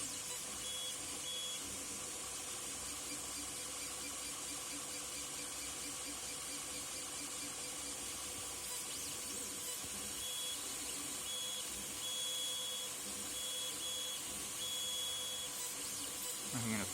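A modded Ender 3 Pro 3D printer runs a print with a steady, dense mechanical whir and hum. A faint high tone pulses on and off throughout, with no talking.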